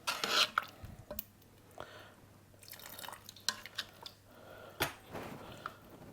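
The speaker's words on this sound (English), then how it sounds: "You just stir it in a bit at a time." Arrowroot being stirred into beef stew in a Cosori pressure pot, with a utensil scraping and clinking against the pot and wet sloshing and dripping coming in irregular bursts at close range.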